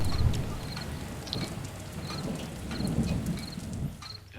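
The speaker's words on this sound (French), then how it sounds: "Et l'orage grondait dehors." A thunderstorm in a survival video game rumbles steadily with rain pouring outside, deep low rolling thunder under hissing rainfall and a few faint high chirps, with no talk.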